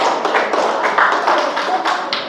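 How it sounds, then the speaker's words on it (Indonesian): Classroom applause from pupils during a lesson on solar eclipses: a dense, steady patter of many hands clapping close by, lasting a couple of seconds with no pause. "tepuk tangan."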